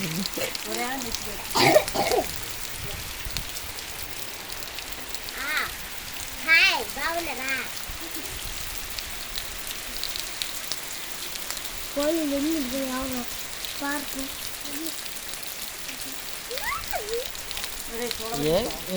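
Steady rain patters on a surface throughout, a soft continuous hiss with scattered drops, while a few voices speak intermittently over it, in a village near tobacco fields.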